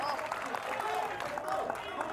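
Bangalore fans cheer and clap at a World Pickleball League match against Dilli, a steady crowd roar at moderate distance beneath commentators talking.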